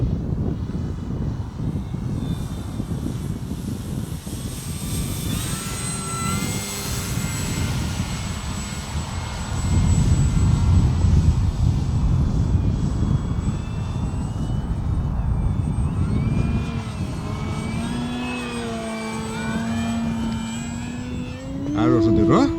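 Model aircraft fly at a flying club evening at Arnarvöllur, their engines droning and whining with rising and falling pitch as they pass, growing louder midway. People talk intermittently throughout over the engine noise.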